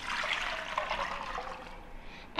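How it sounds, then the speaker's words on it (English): Tap water pours steadily into a medium cooking pot in a home kitchen, a loud continuous gushing stream that thins slightly toward the end before a brief clatter. "add 4 cups of water to your medium pot"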